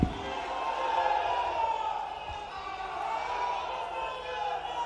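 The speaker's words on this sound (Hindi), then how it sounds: "जोरदार तालियों के साथ अभिनंदन करें आदरणीय श्री अमित" Crowd at a rally in Semaria in the Vindhya region cheering and applauding as Amit Shah is welcomed to the stage, a steady loud wash of clapping and voices throughout.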